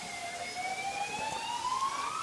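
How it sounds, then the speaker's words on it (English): Emergency vehicle sirens wail on a busy road, a rising tone sweeping upward steadily and fairly distant, with traffic rumble underneath and no talking. "The sirens are going."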